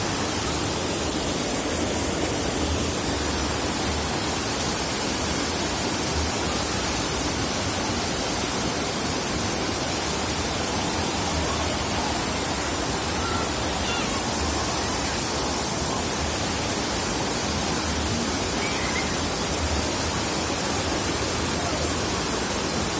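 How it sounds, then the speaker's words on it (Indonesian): A waterfall with a strong, fast current rushes in a steady, loud, broadband roar that fills the whole clip without pause, heard from close by with no voices. "arusnya kenceng banget guys"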